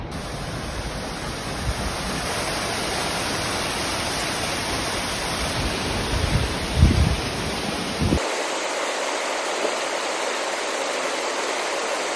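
A mountain river beside the Annapurna trail rushes in a loud, steady broadband roar, with a brief surge midway before the sound cuts to a thinner, quieter wash.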